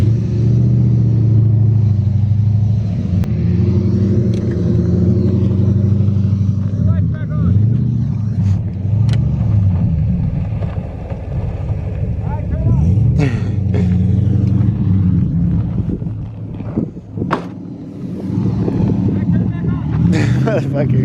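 Car engine rumbling close by on a street, a steady loud low drone with shifting revs, mixed with people talking over it.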